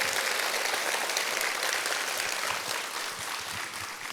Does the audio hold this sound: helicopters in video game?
no